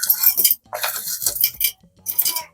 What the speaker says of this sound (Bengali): হলুদ গুলো এখানে দিয়ে দিচ্ছি আপনারা দেখতে পাচ্ছেন